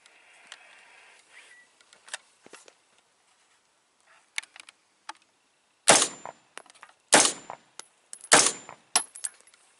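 Several sharp, loud shots from a brand-new AR rifle ring out at an outdoor range, each followed by a metallic clang from a steel target, with fainter pops and clicks before them.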